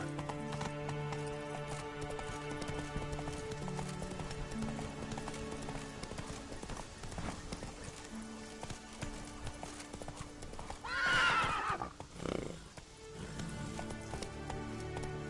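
Roach, a horse in the video game Witcher 3, gallops with a steady, close clip-clop of hooves over background music, and a short neigh breaks through near the end.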